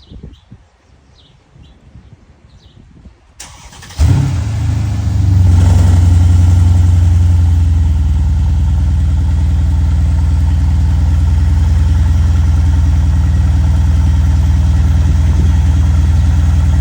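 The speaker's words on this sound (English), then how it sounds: "the exhaust sounded a little too quiet for my liking" A Mercedes S-Class fitted with an Alibaba titanium exhaust starts up after a few quiet seconds of birdsong, cranking into a sudden low roar that settles into a steady, fairly subdued idle.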